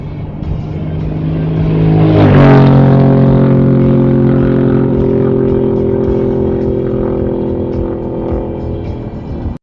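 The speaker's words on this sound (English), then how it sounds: "we've got a pretty sounding motorbike coming up behind us" A loud motorcycle engine roars up from behind, its pitch climbing as it closes in, then holding a steady throaty drone as it rides alongside.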